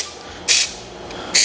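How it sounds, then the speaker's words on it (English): Two short, sharp bursts of hiss from an aerosol spray can making a test spray on one spot, the first near the start and the second at the very end, with a quiet pause between them. "I am gonna do like a little test spray in one spot over here"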